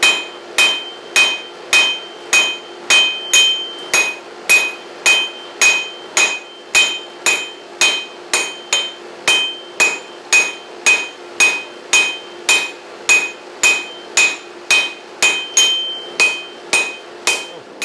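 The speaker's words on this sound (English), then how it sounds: "So we're just going to hold our piece at an angle and forge a simple taper." Hammer strikes on hot steel at an anvil, forging a chisel taper on a 66-pound VEVOR anvil: loud, ringing, metallic blows in a steady rhythm, roughly two per second and about thirty-five in all, with no talk.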